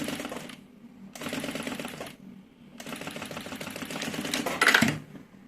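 A sewing machine runs stitching seams on a fabric organizer, in three steady bursts of rapid mechanical clatter separated by short pauses, close and moderately loud.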